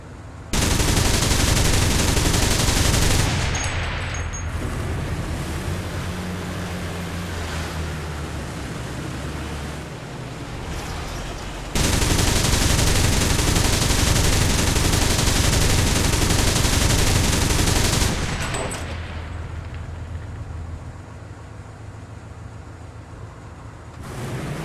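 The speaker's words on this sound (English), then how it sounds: "It's got 4 23mm cannon," Quad 23mm autocannon on a German anti-aircraft vehicle in War Thunder firing in two long sustained bursts, a dense, loud roar of rapid shots that cuts off abruptly, with quieter engine and ambient rumble in the gaps.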